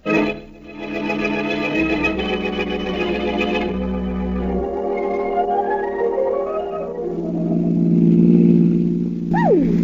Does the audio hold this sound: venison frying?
no